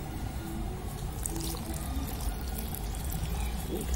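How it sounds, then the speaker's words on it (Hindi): Rainwater is poured slowly and steadily onto a potted chrysanthemum cutting, giving a continuous soft trickle and splash close by with no talk. "मैं इसी पानी को इसमें डालूंगी,"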